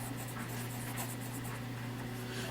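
A fountain pen nib from a Lingmo pen scratches across paper at close range, a continuous dry scratching texture with slight rhythmic variation over a low steady hum.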